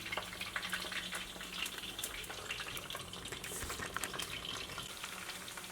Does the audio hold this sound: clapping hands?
no